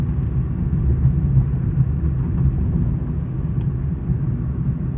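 A car drives along a road near Capitan, its engine and tire noise making a steady low rumble that holds evenly throughout, with no voices.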